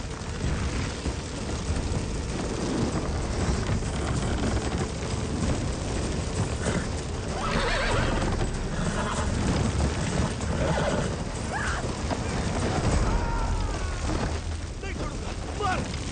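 A horse whinnies amid a loud, busy action scene, with clip-clopping hooves, shouting voices and booming crashes running continuously underneath.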